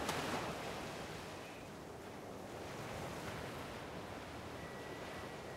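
Shoreline waves in the survival game ARK wash in as a steady, soft surf hiss mixed with light wind, continuous and fairly distant, with no voices.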